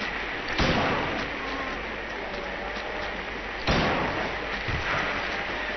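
Two heavy booming blasts about three seconds apart, shotgun fire in Silent Hill 3, each a loud broadband thump that decays over a dense, constant background of game noise and ambience.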